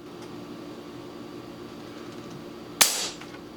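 An ATI NOVA Liberty airgun, running at around 77 foot-pounds, fires a single sharp crack with a short decaying tail over a quiet background hum.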